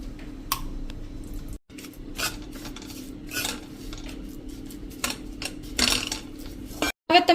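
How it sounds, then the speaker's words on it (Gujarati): Spice masala being mixed into cooled roasted flour in a metal pan for a stuffed cluster bean dish, heard as close, steady scraping and clinking of a spoon against the pan with brief pauses and no speech. "તો એમાં આપણે આ મસાલો નાખી દેશું અને મિક્સ કરી લેશું."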